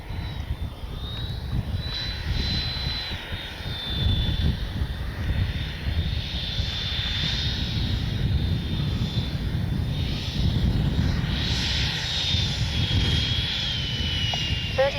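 A Freewing F-22 90mm electric ducted-fan RC jet flies past with a steady whooshing roar and a high whine that swells and fades as it passes, with outdoor wind noise behind it.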